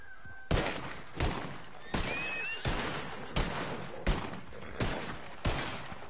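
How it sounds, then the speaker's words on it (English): Gunshots in the Red Dead Online video game, eight loud single shots spaced roughly evenly about two-thirds of a second apart, each followed by a short echoing tail, with faint tonal in-game sounds between them. "Oh, Marcus is just shooting around."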